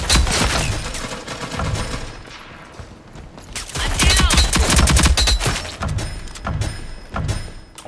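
Sidearm gunfire in Rogue Company, a loud close string of rapid shots in several bursts with thuds between them and no talk over it.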